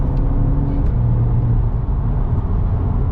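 A Stage 2 BMW M140i with its B58 straight-six drones loudly from inside the cabin, engine note held steady with a brief dip as the ZF 8-speed automatic slips through a shift, no talking.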